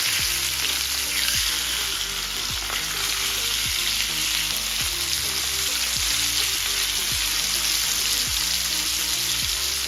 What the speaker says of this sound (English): Our salmon is frying really well.